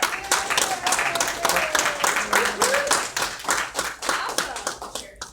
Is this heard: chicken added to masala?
no